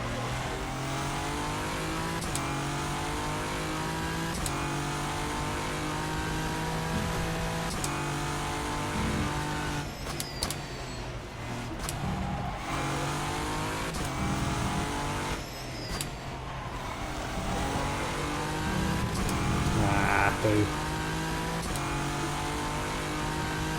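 Race car engine in the rFactor 2 racing game at Sebring, revving hard and steadily through gear changes, with upshift and downshift sweeps and a loud, continuous drone throughout.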